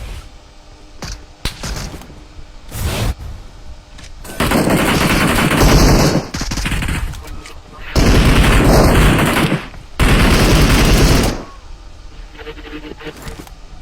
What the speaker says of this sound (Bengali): আরে ফায়ার দিতেছে তো, তুমি দেখো না?